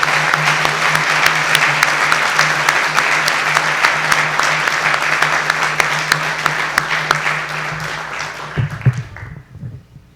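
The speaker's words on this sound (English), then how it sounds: "let's just one more time give a round of applause to those 7 winners of Superior Performance." Sustained applause from an audience at the 43rd annual H. Thomas Guerry awards ceremony, honoring seven Superior Performance winners; steady dense clapping that fades out near the end, with a low hum beneath.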